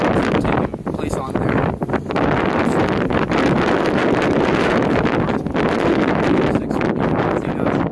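Strong wind buffeting the microphone high on a hilltop overlooking a city and bay, a loud continuous roar with gusty rumble that never lets up across the whole stretch.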